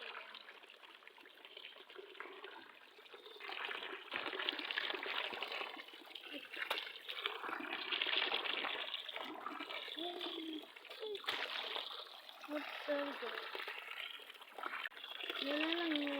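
Water runs and splashes steadily while something is washed, a continuous trickling gush close by, with a voice speaking quietly over it.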